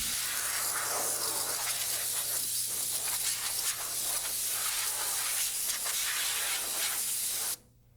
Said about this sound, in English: On final install, blow out the lower oil bath pan to clear it of any dust or debris.